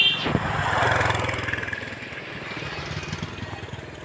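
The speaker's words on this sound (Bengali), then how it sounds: "অনেকে বাইক নিয়ে পানির মধ্যে দিয়ে চালিয়ে যাচ্ছে দেখেন" Motorbikes ride through floodwater on a submerged village road, their mid-pitched engines droning and fading as they pass, with a rough, steady rumble throughout.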